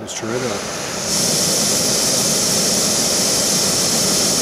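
A steady, roaring hiss of an MSR Pocket Rocket backpacking gas stove turned up to full flame swells up after a brief moment and holds loud and even, close by.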